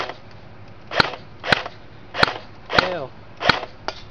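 A CYMA 1928 Thompson airsoft gun fires BBs in six sharp, evenly spaced single shots, each a crisp snap at close range with a faint hiss between.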